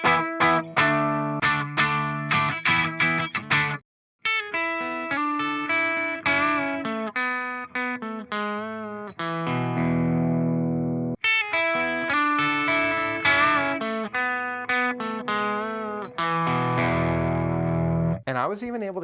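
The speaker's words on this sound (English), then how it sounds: "I was even able to get my distortion sounds without a distortion pedal, just using the channel switching and the boost button." Electric guitar runs through a Friedman IR-X tube preamp and plays distorted chords and riffs in bursts, with one short silent gap. The tone is loud and saturated, with chorus-like shimmer and no talk.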